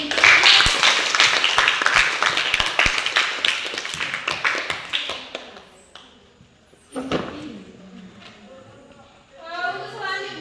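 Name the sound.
applause from class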